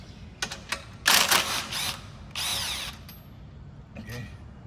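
Bursts of a power drill unscrewing screws from a motorcycle's rear exhaust cover: two longer whirring runs with short clicks around them, close and fairly loud, with a brief trailing buzz near the end.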